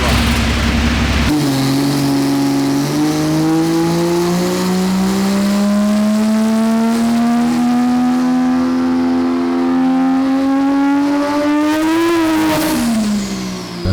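A tuned Toyota A90 Supra engine revs steadily higher for several seconds under heavy load on a dyno, loud and droning, then drops off sharply near the end.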